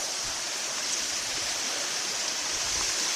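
Gembleng waterfalls in Ubud, Bali, with multiple cascades, give a steady, dense rush of falling water, continuous and moderately loud with no voices.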